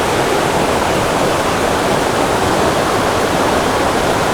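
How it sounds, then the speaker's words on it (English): A waterfall pours in a steady, full roar of rushing water, close and loud, with an unbroken wash of noise that never changes over the whole stretch. "So I've just got the waterfall"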